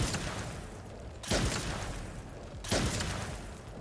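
Bursts of heavy gunfire from Hailey's weapon in a video game, two loud volleys about a second and a half apart over a constant roar of battle noise.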